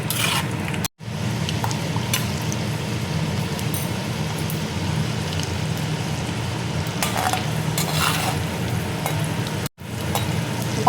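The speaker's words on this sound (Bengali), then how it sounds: "বাদামটা দেখো ভেজে নেব।" Peanuts fry in hot oil in a wok, giving a steady, even sizzle throughout, with two brief dropouts and occasional soft clinks of stirring.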